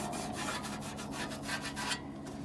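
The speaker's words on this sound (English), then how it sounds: "just applying a little bit of light pressure with the gray pad here" Gray scuff pad rubbing the gloss off a painted 1949–1950 Plymouth dashboard, quick repeated back-and-forth scrubbing strokes, close and quiet, with no talk.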